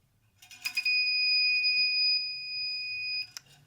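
The low-primer alarm on a Dillon 550 reloading press gives a single shrill electronic tone that holds for about two and a half seconds, framed by brief mechanical clicks.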